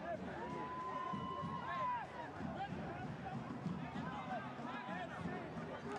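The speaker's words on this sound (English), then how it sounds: "You can hear the fans chiming in." A dense crowd of football fans at a Rhode Island FC versus Oakland Roots SC stadium match chants and roars as a steady, continuous wall of voices, with a sustained whistle-like tone rising above the din near the start.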